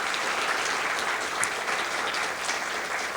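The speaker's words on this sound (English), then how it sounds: "Can we give a round of applause to these folks?" Sustained applause from a conference audience at a housing institute event, dense and even clapping filling the room throughout without pause.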